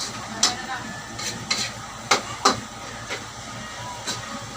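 Fish frying in a pan gives a continuous sizzling hiss, broken by several sharp bursts of spattering or stirring at irregular intervals, close and fairly loud.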